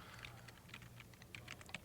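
Quick, light keystrokes on a computer keyboard while entering notes in music tracker software, a steady patter of soft clicks at close range.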